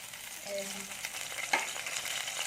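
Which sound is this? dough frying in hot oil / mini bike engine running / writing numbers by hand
dough frying in hot oil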